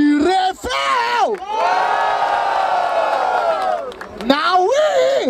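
A crowd at a freestyle rap battle semifinal in Barueri, São Paulo, roars with sustained cheering and loud shouts and whoops, swelling and dipping in waves with voices rising above the din.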